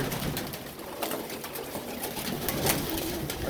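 Pigeons cooing inside a loft, soft repeated coos and rustling from several birds at close range against a steady background hiss.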